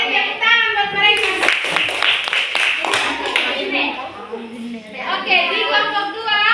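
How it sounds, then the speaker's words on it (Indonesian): Students in a classroom clap for a group of classmates, a short burst of hand claps mixed with children's voices and chatter that continue after the clapping stops. "Oke, tepuk tangan buat mereka."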